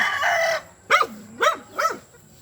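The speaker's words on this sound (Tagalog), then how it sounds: "Gaganda ng manok ni jowa mo ah." Roosters crow three times in a backyard, each call a loud rising and falling cock-a-doodle-doo in steady succession, following a brief burst of clucking from the chickens.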